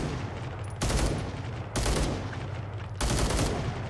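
Vehicle-mounted gun firing in the military video game ArmA 3: three sustained bursts of loud automatic fire, each about a second long with short gaps between, close and heavy with no talk over them.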